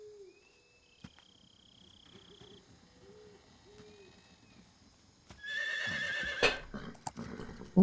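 Horse neighs in a jungle in Metal Gear Solid 3, with a short high whinny near the start, then brief calls over a low ambient bed before a louder burst of game sound near the end.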